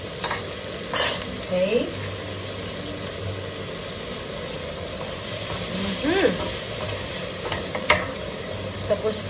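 Butter sizzling and frying in a pan while carbonara is cooked, a steady crackling hiss under occasional stirring and brief talk.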